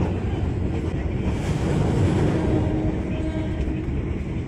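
An economy train runs straight through Lemah Abang station without stopping, heard from inside as a continuous loud rumble and roar of wheels and wind with no clear breaks.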